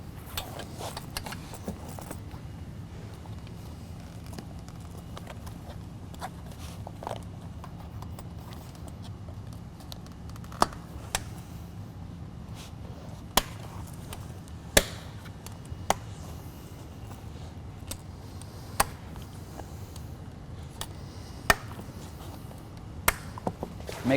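Snap fasteners being pressed into the fabric of a Bestop Trektop soft top on a 2014 Jeep Wrangler JKU, heard as a string of sharp, scattered clicks and snaps over a low, steady background rumble.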